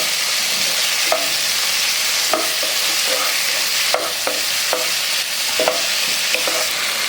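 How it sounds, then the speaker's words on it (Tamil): Onions and tomatoes sauté in a pan of oil with cinnamon and cloves for a vegetarian curry kulambu: a steady sizzle broken by repeated, regular scrapes and knocks of a stirring spoon, with no talking. "வெங்காய தக்காளிலாம் நல்லா வதக்கிட்டு"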